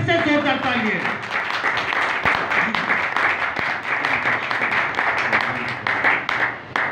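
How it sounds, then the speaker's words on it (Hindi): A congregation at a Christian worship service claps, bursts of hand claps rising beneath a preacher's loud speech and carrying on under the talk to the end. "यीशु मसीह के लिए एक बार फिर से जोरदार तालियां।"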